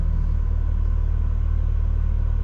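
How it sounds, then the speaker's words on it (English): Exhaust of a 2020 Toyota Supra 3.0 with a B58 engine while driving, a steady low rumbling drone heard from inside the car, constant and even with no breaks. "Whenever you downshift, you can hear those pops and crackles coming from the exhaust."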